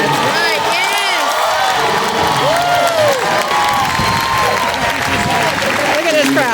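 A large rally crowd cheers, claps and whoops loudly and continuously, with voices shouting over the applause throughout.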